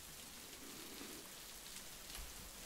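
Rain falling steadily, a soft, even hiss of drops on surfaces that continues without a break, faint and constant throughout.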